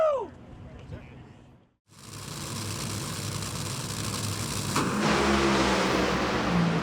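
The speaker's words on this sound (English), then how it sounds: "They both tear down the drag strip, and Antron Brown makes a run for it." Two NHRA drag racing cars tear down the drag strip in a final-round run at the World Finals. A loud, sustained engine roar carries over crowd noise after a brief dip to near-silence, with a rising surge in the second half.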